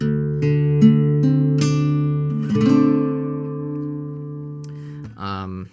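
A few guitar chords strummed one after another, each left ringing and slowly decaying, close and clear with no voices.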